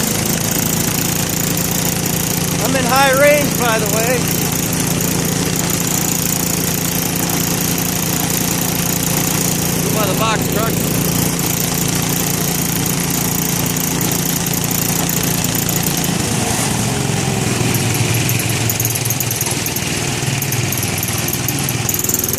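A 1967 Case 155 garden tractor with a used Kohler M12 12 hp engine revs up under throttle, a steady loud mechanical drone with brief speech over it, then the pitch drops off toward the end.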